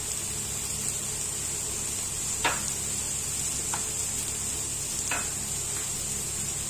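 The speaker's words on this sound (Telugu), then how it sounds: "ఇవన్నీ వేసి మిక్స్ చేద్దాం" Fried rice with sweet corn, pepper powder, sugar, salt and tasting salt being stirred and mixed in a pan, a steady close sizzle with a few soft scraping strokes of the spoon.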